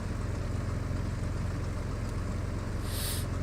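A steady, droning aircraft engine from the Flight Simulator 2000 game, heard in flight from Minneapolis-St Paul toward Litchfield, with a constant low hum and hiss that continues without change and without voices.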